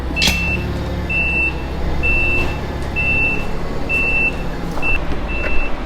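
A truck backing in gives off loud, regular reversing beeps, about one each second and six in all, over a low idling engine rumble close by.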